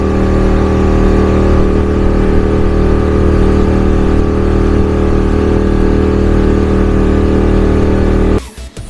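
Boat engine at speed on the Poovar Island backwaters in Kerala, a loud steady droning hum that holds evenly for several seconds, then cuts off abruptly near the end.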